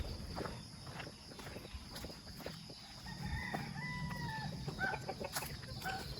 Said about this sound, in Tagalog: So may manok dito oh.